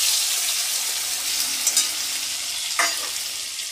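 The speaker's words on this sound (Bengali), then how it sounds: "এবার এই তেলে আমি কাঁকড়াগুলো দিয়ে ভেজে নেব।" Crabs fry in hot oil for a crab and bottle gourd curry, producing a close, steady sizzle with a couple of soft stirring knocks along the way.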